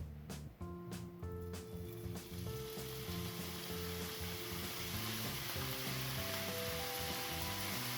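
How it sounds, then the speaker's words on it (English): Bacon and onions fry in a splash of oil in a hot pan, giving a steady, faint sizzle with a few sharp clicks and tonal clinks early on, as if a utensil knocks the pan. "A little splash of oil into a hot pan, and then you're going to fry off the bacon and the onions."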